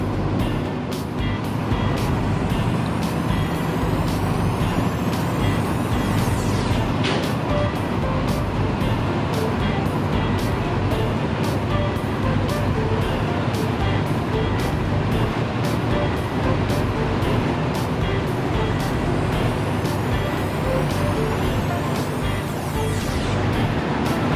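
Parcel and goods unloading at Hua Lamphong railway station, Bangkok, heard as a constant loud rumble of engines and traffic-like noise with scattered clicks and clanks throughout.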